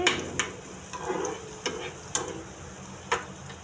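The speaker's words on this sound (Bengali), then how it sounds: "এই যে আমার তেল গরম হয়ে গেছে, পেঁয়াজ দিব" Onions fry in hot oil in a home kitchen, a soft sizzle under sharp clicks and taps of a spoon stirring against the pan at irregular intervals.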